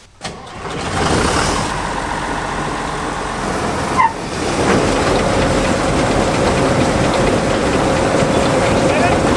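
An old abandoned combine harvester's engine cranks and catches near 4 seconds, then settles into a loud, steady running rumble that continues to the end, with some speech mixed in.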